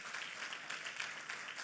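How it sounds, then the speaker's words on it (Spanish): A church congregation applauds during a Spanish-language service, a faint, even patter of many hands clapping at a distance, with no talk. "Dale un aplauso al Señor."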